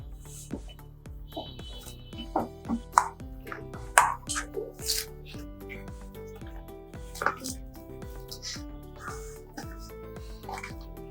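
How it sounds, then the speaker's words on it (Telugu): Rice-flour dough kneaded with ghee is squeezed and pressed by hand for cheti chekkalu, giving a run of soft, irregular squelches and sticky pats, fairly faint, with gentle background music underneath. "ఇలా చేతితో పిండి పిసికితే ఇలా సౌండ్ వస్తే చాలు"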